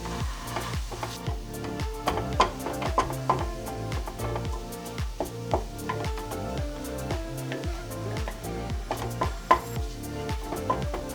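Cooked banana mashed by hand in a pot for banana cutlets: a steady run of soft, quick tapping and squishing knocks repeating for about eleven seconds, close and moderately loud, with no talk.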